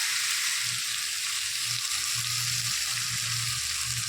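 Steady frying sizzle of water lily (shapla) curry in a pan as sugar is added and stirred, with soft low scraping bursts from the stirring and no talk.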